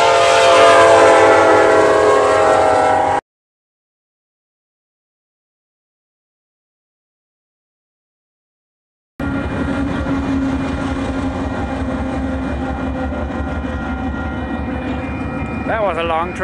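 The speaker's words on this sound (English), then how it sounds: "That was a long train." A long train rolls past, loud and close, with a deep steady rumble and rattling wagons that break off abruptly, then return after a gap. A brief voice is heard near the end.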